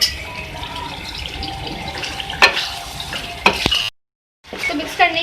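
Chicken liver karahi being stirred with yogurt in a pan: wet sizzling and squelching with sharp spoon scrapes and clinks, close and fairly loud, broken by a brief silence before stirring resumes.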